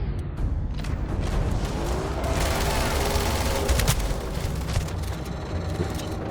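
Sustained, dense gunfire from the Starfield video game during a fight with Terrormorphs in New Atlantis, with rapid shots and booming impacts running continuously and loudly throughout.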